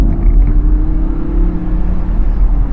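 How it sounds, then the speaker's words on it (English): Audi R8 V10 Performance Quattro Spyder with the roof down, its V10 engine pulling hard while driving, a loud, deep, steady rumbling drone with a rising revving edge, heard close and without talk. "you can hear that V10 soundtrack"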